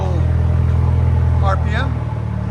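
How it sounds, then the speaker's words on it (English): A 2021 BMW M430i with a 2.0L turbo engine and straight pipes idles with a deep, steady, loud rumble, while someone talks over it. "That's idle, guys. There's idle"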